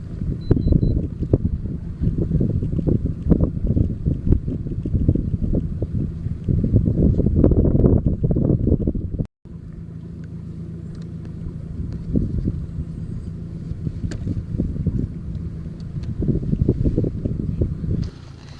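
A gas outboard motor drones steadily as a small fishing boat trolls for white bass on a lake, wind buffeting the microphone, with a brief cut midway before the engine hum resumes.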